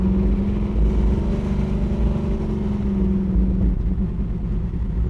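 A 1966 Chevrolet Nova SS cruises down the road with an even, continuous engine drone and a low steady hum that holds throughout, with no voices.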